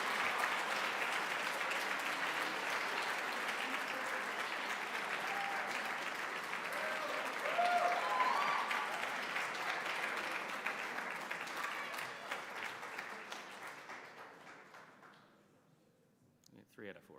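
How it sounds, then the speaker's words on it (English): Sustained applause from an audience at a high school academic awards ceremony, a dense steady clatter of many hands lasting over ten seconds before thinning out and fading to scattered claps near the end. "you can respond with your wild, sustained applause"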